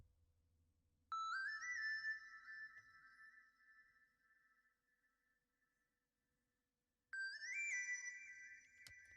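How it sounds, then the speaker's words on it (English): Two phrases of a pure sine lead synth from the Falcon Solo Sine preset, each gliding up into a clean sustained whistling tone that slowly fades, separated by a short silence, alone and fairly quiet. "The preset we use for this sine lead is in Falcon, and it's called Solo Sine."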